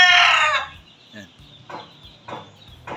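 A pure Golden Boy sweater red gamefowl rooster crows loudly and close at the start, followed by a few softer clucks and short calls spaced apart.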